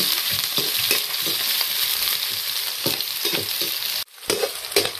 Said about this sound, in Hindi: अभी हम लोग प्याज लहसुन सब डाल रहे हैं